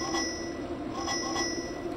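Bicycle bell in the cycling game Zwift rings in a few quick bright dings over a steady background hum, with no voices.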